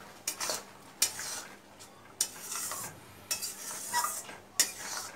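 Mango pickle with chilli powder being stirred in a pan, a spoon scraping and knocking against the metal in irregular strokes with a faint sizzle underneath, close and fairly quiet with no talk.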